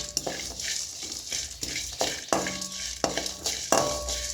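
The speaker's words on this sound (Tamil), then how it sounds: "எண்ணெயிலே நல்லா செவக்க வறுக்கணும்" Grated coconut frying in hot oil in a pan, with a spoon repeatedly scraping and stirring against the metal, producing a steady sizzle broken by sharp rhythmic clanks and scrapes, close and fairly loud.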